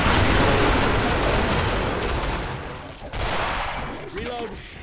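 Sustained gunfire in the Killing Floor shooter game, with a Medic firing during a modded wave against a King Fleshpound; dense, continuous rattling shots fill the whole stretch, easing slightly toward the end.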